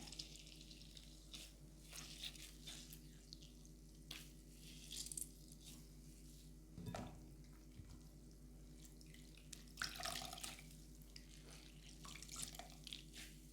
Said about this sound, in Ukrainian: Зараз буду відтискати хліб від нашої водички і додати до фаршу.